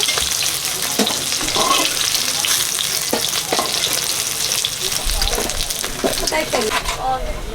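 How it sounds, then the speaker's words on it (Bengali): Rohu fish pieces frying in oil, a loud close dense sizzle with scattered pops and spatula scrapes, as someone speaks intermittently over it. "আমার বাকি রুই মাছগুলো ভেজে নিচ্ছি"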